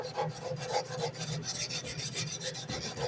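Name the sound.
hand sanding with 80 grit sandpaper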